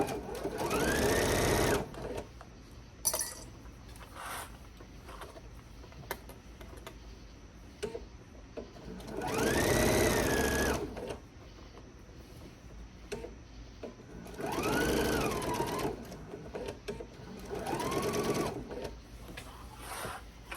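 Bag straps are stitched on a sewing machine in four long, steady bursts of fast mechanical whirring with quieter ticking gaps between, heard up close with no voices.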